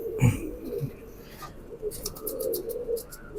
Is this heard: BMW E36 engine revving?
no